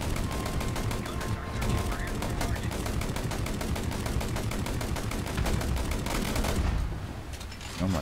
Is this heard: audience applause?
no